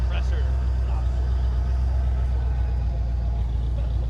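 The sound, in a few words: Halo 3 Warthog replica engine running with electric compressor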